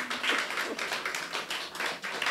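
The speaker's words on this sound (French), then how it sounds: "Applaudissons." A church congregation claps along at a worship service, a steady run of close hand claps with faint room echo and no talking.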